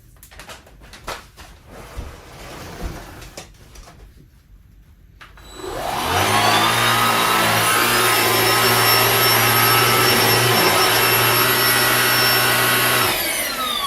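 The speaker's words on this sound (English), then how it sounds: "take the vacuum cleaner and go right on over that" Light clicks and handling noises, then a Black+Decker cordless vacuum switches on with a rising whine and runs loud and steady on its lowest setting, close by, picking up crumbs until it cuts off.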